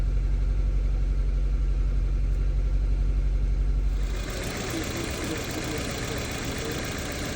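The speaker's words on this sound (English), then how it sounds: "the car goes back to idling a whole lot better" A car engine idles close by in an automotive shop lab with a steady, low mechanical rumble. Its tone shifts and settles a little past the halfway point.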